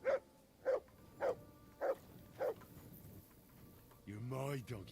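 Mud, a dog in the Kingdom Come Deliverance 2 video game, barks five times in an even, steady rhythm at moderate distance, and a voice follows right after.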